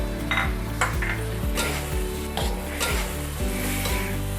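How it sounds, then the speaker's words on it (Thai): Squid and holy basil leaves being stir-fried in a pan, with a steady sizzle running under repeated scraping and tossing strokes of a utensil against the pan, close and fairly loud. "เราก็ผัดให้ใบกะเพรานะคะพอสลบ"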